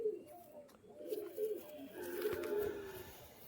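Giribaj pigeons coo in soft, low, repeated phrases, close by and fairly quiet, with a few faint background rustles and no talking.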